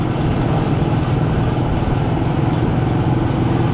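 Ford Ranger pickup truck engine running steadily with a rough, rattly idle, a constant loud low rumble that holds throughout with no talk.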